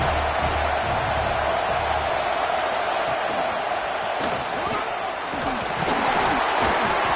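Loud, dense roar of a packed stadium crowd at an Auburn college football game during a fourth-down stop, steady cheering and shouting throughout with bursts of whistles and yells rising near the end.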